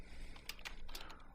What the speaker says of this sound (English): Just type it like I'm typing it here.